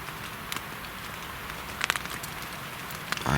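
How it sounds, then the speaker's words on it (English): Rain falls steadily in woodland, a dense, even hiss of patter with scattered louder drops ticking through it, close and continuous. "it's still raining"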